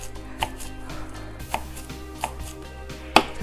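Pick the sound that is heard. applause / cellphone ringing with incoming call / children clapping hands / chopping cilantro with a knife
chopping cilantro with a knife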